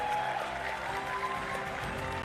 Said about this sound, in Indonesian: Tepuk tangan yang meriah untuk semua pimpinan kita yang baru